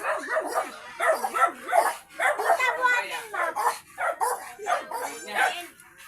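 A dog barks and yips in quick, close bursts that repeat through the whole stretch, mixed with a person talking over it in a home with many puppies around.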